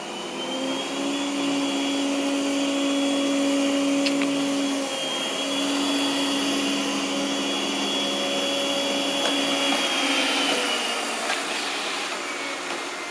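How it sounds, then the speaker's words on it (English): A Yeedi Vac Max robot vacuum cleaner runs with a steady, loud whirring hum that holds a constant pitch, with a brief dip partway through as it keeps cleaning. "Yeedi Vac Max automatically increases suction power when it detects a carpet."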